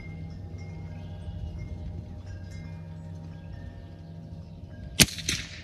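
A single sharp crack from a CZ 457 .22LR rifle fired at a target 50 yards away, arriving near the end after a quiet outdoor stretch and followed by a brief second tail of noise.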